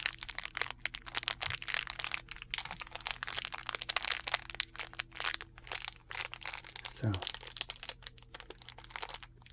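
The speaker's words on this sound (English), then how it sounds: "Some more buttons, this time in a long, skinny plastic bag. Makes a nice sound." Buttons shifting inside a long, skinny plastic bag, producing close, crisp crinkling and rustling in irregular bursts with small clicks, recorded intimately in a quiet room; a brief spoken word occurs.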